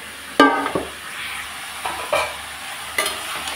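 Chopped cabbage fries in a pan, set close and alone with a low steady sizzle under three distinct scraping stirs of a spatula, each a short bright rasp spaced about a second or more apart.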